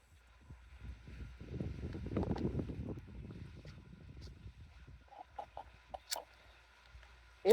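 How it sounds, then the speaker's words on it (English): Wind gusts buffet the microphone outdoors during a burning ritual, swelling into a rumbling blast then easing, with a few faint clucking fowl calls in the background. "It's a little windy."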